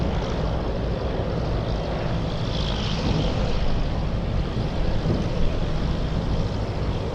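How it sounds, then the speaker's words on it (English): An Airbus A330 cargo plane flies past at Anchorage, a loud, steady, broadband engine roar holding evenly throughout with no voices. "There goes the A330 flying to Seoul"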